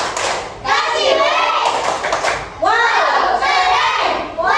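Children in a classroom clap in short rhythmic bursts while chanting a call-and-response clapping cheer, with bright young voices mixed over the claps in two distinct rounds.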